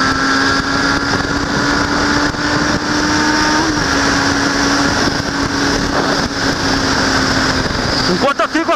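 Black Honda Hornet motorcycle engine held at a steady high rev, a loud, close, sustained whine with small wavers, then a brief burst of throttle blips at the end.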